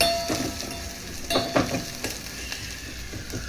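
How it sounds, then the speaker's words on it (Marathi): Spices and grated coconut roast in a pan with a soft, steady sizzle, broken by a few louder stirring scrapes, close and with no voices. "हे सर्व आपल्याला एकदम भाजून घ्यायचं आहे चांगल्या प्रकारे"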